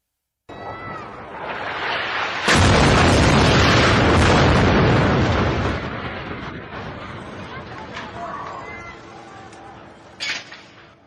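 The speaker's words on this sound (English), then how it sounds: "The Mecca residential tower in western Gaza City was bombed by the Israeli army also on September 29th." A bombing of the Mecca residential tower in western Gaza City by the Israeli army: a sudden, massive blast roars for several seconds, then rumbles and crackles into debris noise, with a sharp pop near the end.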